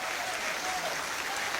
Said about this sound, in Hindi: एक बार तालियां अच्छी उठा दें।